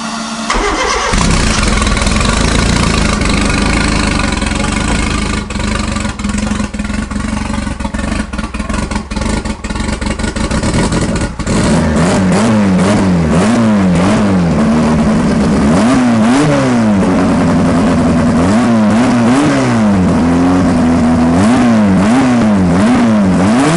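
A tuned 700 hp car engine, an L15, starts loudly close by, idles roughly, then revs repeatedly in rising and falling sweeps, no voices.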